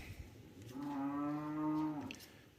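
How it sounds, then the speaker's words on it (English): Hungry cattle waiting for hay let out a single long, loud moo lasting over a second, close by, with no talk over it. "sorry about the cows, they're mad because they ain't got no hay yet"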